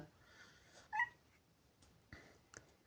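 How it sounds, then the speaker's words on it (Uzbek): A single short cat meow, faint and a little distant, in an otherwise quiet room with a few soft knocks. "Kuni bilan miyovlaydi, bola qidiradi-da"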